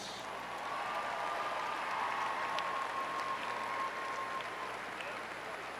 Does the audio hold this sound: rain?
no